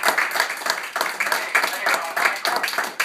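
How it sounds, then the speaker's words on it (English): An audience at a participants' gathering claps for a participant; a steady patter of many hands fills the room at moderate loudness for a few seconds, with voices mixed faintly beneath it. "everybody please applaud David for participating in such a generous way"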